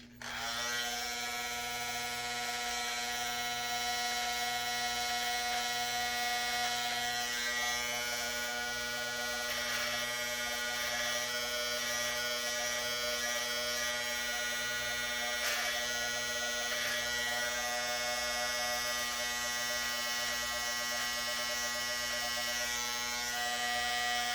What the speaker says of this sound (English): you can also go around this area with the trimmer and make some defined lines